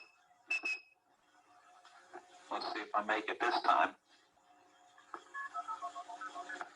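A person whistles telephone dialing tones into a phone handset, a rapid run of short pitched whistled notes after a burst of noisy handling, with a brief spoken line near the start; the whistle imitates touch-tone signals.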